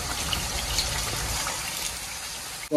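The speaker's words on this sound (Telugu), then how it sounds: "కొంచెం వాటర్ వేసుకుందాం." Water is poured into a pan of fried chicken curry, a steady, gushing splash of liquid that runs on evenly before ending with a brief clatter; no talk.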